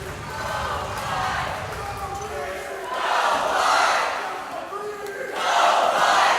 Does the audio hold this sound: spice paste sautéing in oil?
no